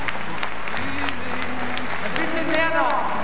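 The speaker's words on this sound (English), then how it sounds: "Another great applause from Sparkassen Arena for the Chinese team" An arena crowd at Sparkassen Arena applauds the Chinese gymnastics team, a steady wash of clapping filling the hall under a commentator's voice, with brief whistles near the end.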